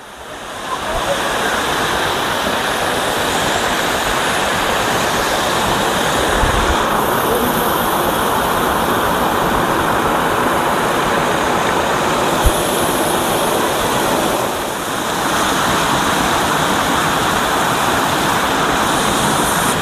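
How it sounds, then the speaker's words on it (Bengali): A waterfall near Langurdang in the hills of Relling, Darjeeling, pours in a constant, loud, broad rush that never lets up. "কতটা সুন্দর এক ঝর্ণা"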